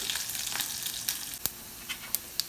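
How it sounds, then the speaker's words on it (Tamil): Onion and curry leaves fry in hot oil for a chow chow sambar tempering, a close hissing sizzle that fades toward a few sharp, isolated pops and crackles. "எண்ணெய் நல்லா காய்ச்சி கொஞ்சம் வெங்காயம், கருவேப்பிலை போட்டு நல்லா சிறக்க விடணும்."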